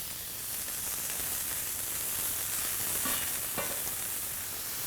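Baby portobello mushrooms sizzle in a pan for a copycat Five Guys burger: a steady, even hiss of frying that holds at a moderate level throughout, with a couple of faint crackles near the end.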